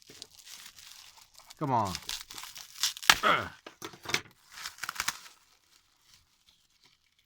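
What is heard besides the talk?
unwrapping package of bubble wrap and scotch tape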